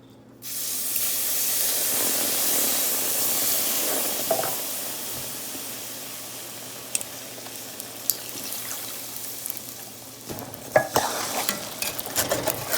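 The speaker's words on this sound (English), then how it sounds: "you just gotta keep stirring" Caramelized sugar hisses and sizzles loudly as evaporated milk hits the hot pan, settling into a steady bubbling with scraping spoon strokes near the end.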